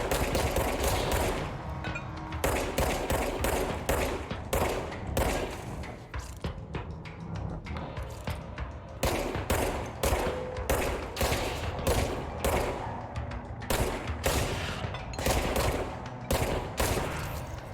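Rapid bursts of gunfire from shooting enemies in the video game Control, with repeated volleys and brief pauses between them, loud and dense throughout with no talking.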